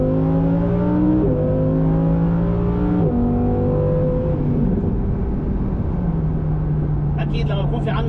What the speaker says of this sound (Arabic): منوقف حكي ومنضغط ونستمتع بهالصوت الإيطالي الرائع يلي ناجم عن محرك من 10 اسطوانات بتنفس طبيعي